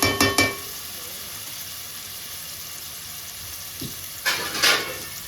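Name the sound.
tomatoes frying in a pan for mutton curry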